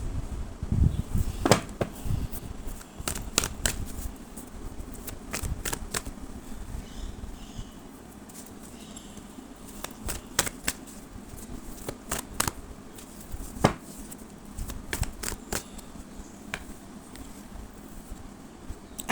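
Playing cards shuffled close by, a soft, papery riffling with sharp flicks and bursts coming and going irregularly against a quiet background.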